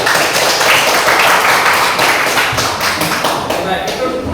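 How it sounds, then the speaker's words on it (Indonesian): Students clap in a classroom after a group presentation on bullying and physical violence, a busy, fairly close patter of hands that holds steady for the whole stretch. "Oke, tepuk tangan dulu."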